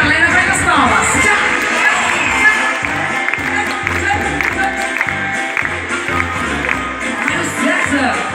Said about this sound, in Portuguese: E a galera vai nas palmas.